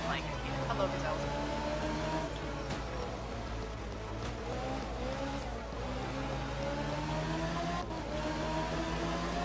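A rowdy rally car in the Art of Rally video game, on an endurance stage in Kenya, revs and drones steadily with rising and falling engine pitch, joined by occasional sharp clicks and bumps.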